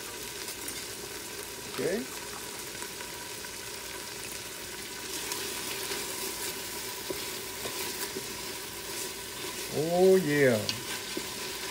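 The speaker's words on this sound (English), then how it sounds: "we're gonna put us about that much garlic" Garlic sizzling in a pot for homemade beef stew, a steady moderate frying hiss throughout, with a voice briefly speaking twice over it.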